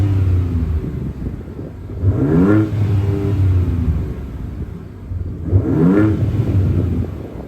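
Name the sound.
2025 Ford Ranger Raptor engine starting and revving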